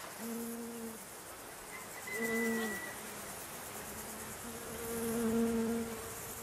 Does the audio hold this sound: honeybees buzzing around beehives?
yes